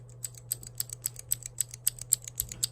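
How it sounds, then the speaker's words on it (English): An unlubed Cherry MX Green mechanical keyboard switch clicks about a dozen times in a steady rhythm, each press a crisp, sharp, close click. A faint low hum runs underneath, and no one speaks. "I've got a couple spare cherry green switches here. This one is still assembled and it's unlubed. Listen to it."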